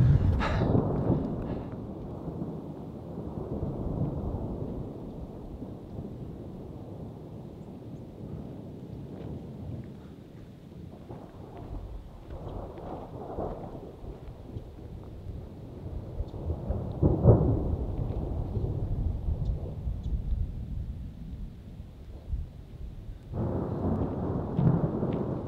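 Thunderstorm over a high mountain pass on the Colorado Trail: deep, rolling thunder rumbles on and off beneath steady rain and gusting wind, with no voices.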